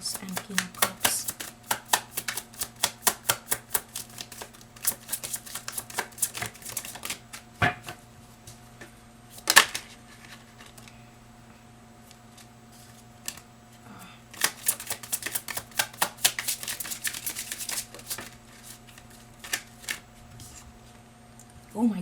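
Tarot cards being shuffled in repeated fast riffling bursts, close and crisp, with quieter gaps between rounds and occasional taps of the deck.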